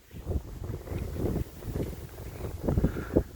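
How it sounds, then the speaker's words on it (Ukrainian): Gusty wind buffets the microphone outdoors in Dnipro on a cold day, a low rumbling roar that rises and falls in uneven bursts. "У Дніпрі холодно та вітряно, але це нас не зупинить"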